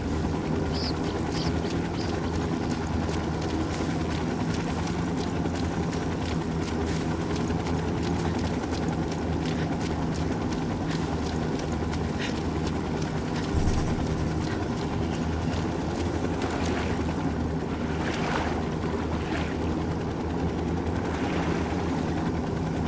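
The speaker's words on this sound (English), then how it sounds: "That Apache's gonna cut loose. Get down. Chopper, hit the dirt." Apache attack helicopter flying in Ghost Recon Wildlands, a steady droning rotor and engine roar filling the scene continuously, loud and unbroken, with faint bursts of gunfire and game noise mixed in.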